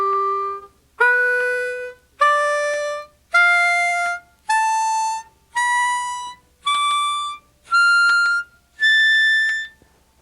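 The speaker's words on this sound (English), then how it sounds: "Now let's start over and draw or inhale through each hole." A harmonica drawn, inhaling through each hole in turn: nine separate clear reedy notes, each held about a second, stepping upward in pitch one after another, close and alone with no talking.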